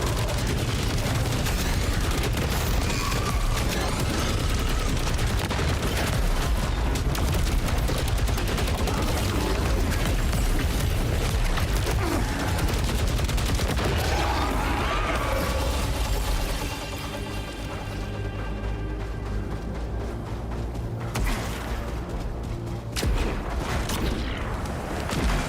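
Dense, loud gunfire and explosions fill a hectic firefight in the video game Saros, rapid shots and blasts layered over heavy in-game rumble, then thinning into a quieter stretch with lingering tones.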